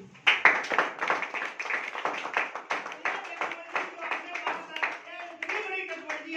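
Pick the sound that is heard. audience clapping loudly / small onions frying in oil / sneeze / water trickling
audience clapping loudly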